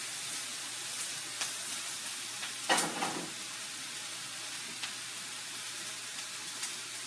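Onions fry in a pan with a steady, fairly quiet sizzling hiss throughout, broken once midway by a short louder burst as they are moved.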